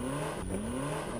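A car drives down sand dunes with its engine revving in a steady, faint mid-pitched drone that rises gradually, heard alone without talk.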